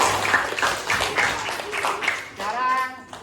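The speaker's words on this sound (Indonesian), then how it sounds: "tepuk tangan untuk kelompok 1" Classroom students clapping for a discussion group, a short burst of scattered hand claps mixed with voices, fading out as someone speaks near the end.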